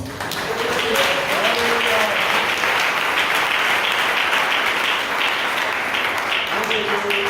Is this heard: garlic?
no